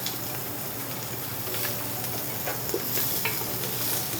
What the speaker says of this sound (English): We add onions. Stir those around. Get them a little bit softened up. Add our garlic.